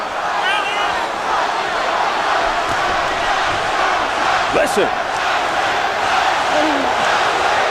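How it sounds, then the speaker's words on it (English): A boxing arena crowd at the Tyson vs Holyfield fight roars and yells continuously in a dense wash of noise, with a commentator talking over it. "And the crowd really picking up now."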